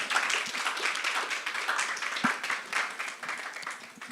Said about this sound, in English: Please let the applause flow while she comes.